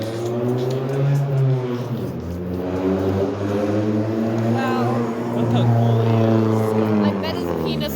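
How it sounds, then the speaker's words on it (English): A loud car engine revs and roars close by, rising and falling in pitch through the whole stretch, with the strained sound of hard acceleration and no talk over it. "that car is so loud"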